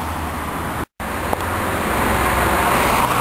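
Cars roll past on a badly degraded boulevard full of potholes and deep ruts with a pronounced camber, a steady close traffic rumble with a brief dropout partway through.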